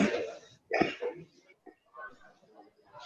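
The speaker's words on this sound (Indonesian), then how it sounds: "Mohon maaf, saya sedikit batuk." A close cough breaks out, followed by rough throat-clearing and softer raspy bursts mixed with faint breathy vocal sounds.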